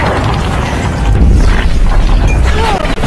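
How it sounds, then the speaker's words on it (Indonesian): A loud, close blast tears through an outer wall in an animated film, a heavy rumbling boom with crumbling debris and mechanical clatter that stays dense before dropping off abruptly near the end. "di mana mereka langsung meledakkan tembok luar untuk menjebol masuk ke dalam"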